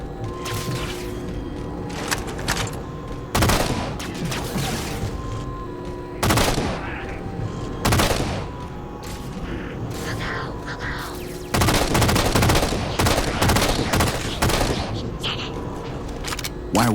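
Gunfire from the video game Halo 4: repeated loud bursts and booming shots in clusters over a constant battle rumble, with a brief shout among the fire.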